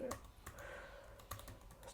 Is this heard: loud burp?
no